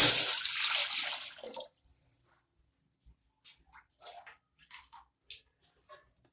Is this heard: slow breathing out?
no